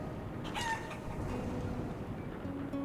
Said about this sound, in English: Okay, we do have a chicken.